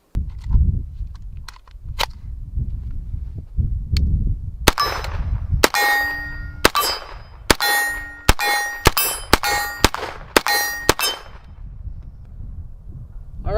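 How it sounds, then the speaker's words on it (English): A PSR7 rifle fires about ten loud, sharp shots in an uneven series, each with a bright metallic ring. Quieter handling and ambient noise come before and after the shots. "let's do some more shooting now that this thing is zeroed"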